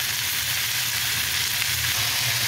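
Garlic, tomatoes and apple cider vinegar sizzling in a hot pan, a loud, steady, close hiss of frying that stays even throughout with no talking.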